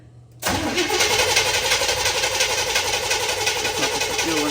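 A Squarebody truck engine fitted with a new carburetor cranks and catches abruptly, then runs loud and steady for several seconds, a rough mid-pitched roar with no talking over it.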